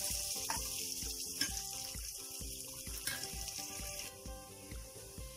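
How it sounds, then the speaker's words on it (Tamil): Onions, cashews and raisins deep frying in hot oil for jeera rice, a steady close sizzle with some faint stirring and water-like clatter, no talking. "நல்லா டீப் ஃப்ரை பண்ணிக்கோங்க."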